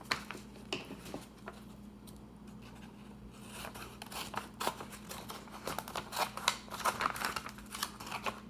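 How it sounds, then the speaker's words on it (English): Scissors cut along the crease of a folded sheet of paper, producing a series of quiet, crisp snips that speed up over a low steady hum; no talking. "I'm gonna take my scissors and I wanna cut on that line that we folded."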